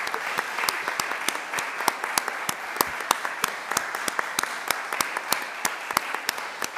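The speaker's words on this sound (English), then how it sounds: "but let's give him a round of applause." A congregation at a Shabbat worship service claps, with distinct individual claps from a modest number of hands landing in a loose, fairly regular rhythm at moderate loudness.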